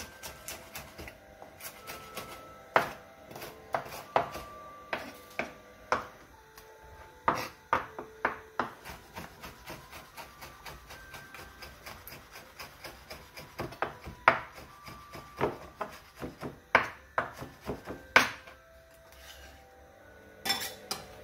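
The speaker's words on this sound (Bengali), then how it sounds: "দেবো হচ্ছে লেবু পাতা, খুব কুচি কুচি করে কেটে," A knife taps rapidly and repeatedly on a cutting board while lime leaves are chopped very finely for a pumpkin-flower dish. The sharp knocks come in irregular bursts and runs, close and clear, with no talking.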